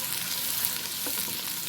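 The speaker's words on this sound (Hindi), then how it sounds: "इनको भी हल्का सा फ्राई कर लूँगी ताकि शिमला मिर्च का जो कच्चापन है वो ख़त्म हो जाए" Chopped bell peppers and peas sizzle in a hot pan, a steady, dense frying hiss with faint stirring, close and continuous with no voices.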